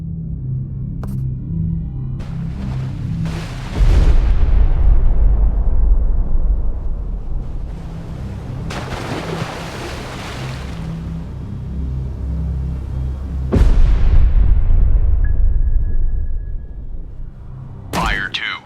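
Depth charges from a destroyer in a U-boat hunting game detonate as deep, booming blasts, three heavy explosions spaced several seconds apart, each rolling into a long rumbling decay, with a sharp crack at the end.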